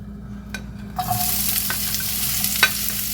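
Vegetables sautéing in a little oil in a pan, a steady close hiss of sizzling that starts after a second, with a few clacks from stirring.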